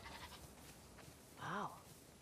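A sheep bleats once in a barn in the video game The Last of Us Part II, a clear wavering cry rising and falling briefly over quiet background ambience.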